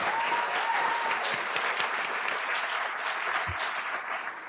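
Steady, dense applause from an audience at a school board meeting fills the room continuously, even and fairly close, with many hands clapping at once and no talking over it.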